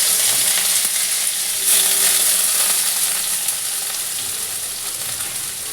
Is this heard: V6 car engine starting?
no